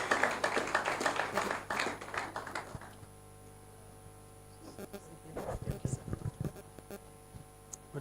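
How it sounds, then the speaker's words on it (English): A burst of clapping from a small crowd at a youth summit greets a speaker coming on stage, fading out after a few seconds, followed by scattered taps and handling noises. "Please, a round of applause for him as he comes on stage."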